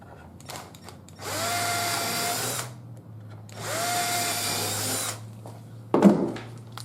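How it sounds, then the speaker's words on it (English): A power drill whirs in two sustained bursts of a few seconds each, boring into wood up close, followed by a short knock. "I'm going to pre-drill so the wood don't split."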